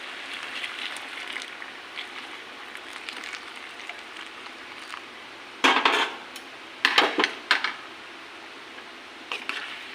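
Metal pot held with tongs in a kitchen while hot water is poured in: a steady background hiss broken by a few sharp clattering metallic clinks and scrapes near the middle and end.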